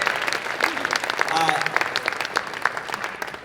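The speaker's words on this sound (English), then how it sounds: "let's clap for it" Audience applause at the Akron Civic Theatre during a PechaKucha event, crisp scattered clapping from a moderate crowd, steady for a few seconds and fading slightly toward the end.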